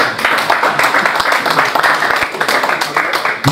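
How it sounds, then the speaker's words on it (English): Crowd applause and clapping at a city award ceremony in Ikeja, Lagos, a dense, steady wash of many hands filling the whole stretch, fairly loud, with no clear break. "Round of applause, please."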